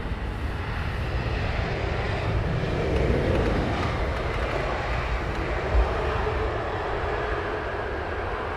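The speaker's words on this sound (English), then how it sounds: "We have a big one taking off and a small one arriving." Airliners take off and land on Heathrow's runway 27R, a broad, steady jet roar that swells slightly midway and holds throughout.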